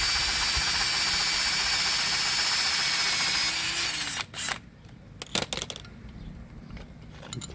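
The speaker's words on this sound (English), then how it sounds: "all the holes are drilled." A power drill runs steadily at high speed while drilling holes in a Chevy Astro AWD van to mount an Ironman 4x4 8ft awning, then it stops, leaving scattered clicks and handling noises close by.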